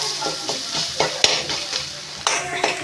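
Spices and oil sautéing in a pan while being stirred, a steady sizzle broken by sharp spoon scrapes and clinks against the pan, close and fairly loud.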